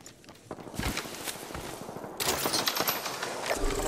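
Gunfire aimed at the player in Apex Legends: rapid, close bursts of shots crackle almost continuously, growing louder and denser in the second half, mixed with footsteps and game noise.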